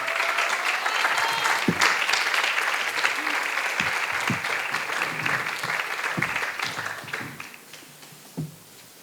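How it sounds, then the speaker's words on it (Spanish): Sustained applause from a conference audience for a lecturer, with sharp individual claps and knocks standing out, gradually fading toward the end with a final isolated clap. "Un aplauso, por favor, para el doctor Sandoval."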